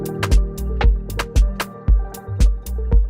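Resynthesized clap sample from the Beam instrument by Lunacy Audio, used in place of a snare within a programmed beat: sharp, dry claps strike repeatedly in a steady pattern over a booming low 808-style pulse, loud and close.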